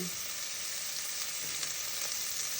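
Oil sizzles and crackles steadily in a pan as a chicken soup with malunggay cooks and tomatoes go in, a continuous close frying hiss with no talking.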